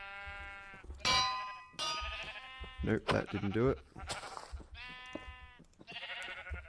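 Sheep bleating in the Minecraft video game, several short electronic-sounding bleats spaced apart, interleaved with someone talking.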